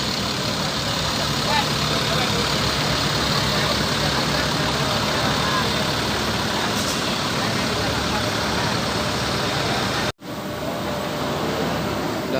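An ALS bus, number 301, with an Avante H7X body on the Surabaya–Medan route idles with a loud, steady, unbroken engine drone throughout, briefly cutting out near the end.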